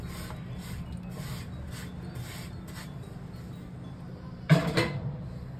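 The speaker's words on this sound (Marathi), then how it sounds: "आता हे चांगलं मिक्स करून घ्यायचं" By hand, lentil paste for sandage is worked together with plenty of chopped coriander and asafoetida, giving soft, repeated squelching rubs close by, followed by a louder, sharper mashing burst near the end, with no talking.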